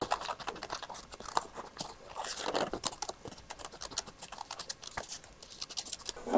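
Scissors cutting out a rub-on sticker for a journal spread, quick soft snips and crisp paper crunches in a close, faint irregular series.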